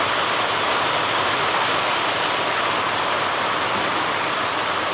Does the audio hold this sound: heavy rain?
yes